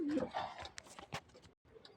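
A pair of Afsan grizzle pigeons in a loft gives low, soft cooing, with a few rustles and brief handling sounds around them and a short silent gap near the end.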